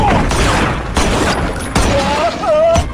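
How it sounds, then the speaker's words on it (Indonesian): Rapid gunfire in a crime action film about a dangerous mafia gang, a dense, loud volley of shots and booms throughout, with raised voices mixed in. "Mendengar suara tembakan dari temannya tersebut"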